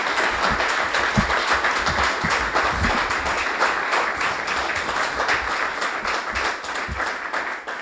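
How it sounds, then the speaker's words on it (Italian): Sustained applause from a seated audience at a general council meeting of a trade union in Cosenza, steady and full for the whole stretch with no speech over it. "Prego via di alzarvi per ricevere l'applauso."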